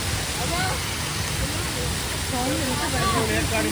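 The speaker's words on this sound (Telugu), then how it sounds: "వాటర్ఫాల్." Artificial waterfall at Shilparamam in Hitech City pours with a steady, loud broadband rush of water, continuous throughout, with faint voices murmuring in the background.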